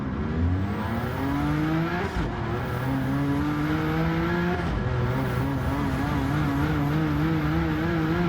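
Car engine in Gran Turismo 7 revving steadily, its pitch rising and falling through the rev range in clear harmonic sweeps, loud and continuous with a faint whine above and no talking.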